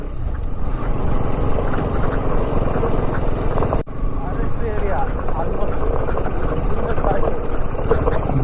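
Motorbike engine droning steadily while riding off-road on Sleeping Elephant Hill, a loud continuous rumble mixed with heavy wind buffeting the microphone, with voices talking over it.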